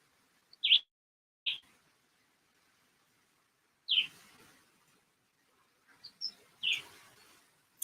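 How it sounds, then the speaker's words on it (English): Wild birds sing in short, bright chirps and tweets, spaced irregularly across a quiet background with no talking, each call clear and fairly close. "Love hearing the birds."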